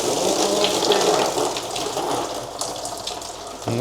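Coolant from a Saab 96 engine cooling system sprays and gushes in a workshop, a loud, continuous hissing rush of liquid that runs throughout and thins near the end.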